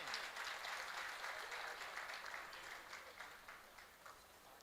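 An audience at a Hariyali Teej festival gathering claps together, a moderately distant, steady patter of many hands that slowly thins and softens toward the end, with faint background murmur.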